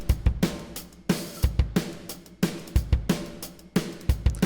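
Pop punk drums from Superior Drummer software, compressed and run through tape distortion, pound out a repeating kick-and-snare pattern with gritty, saturated cymbal wash and no talking.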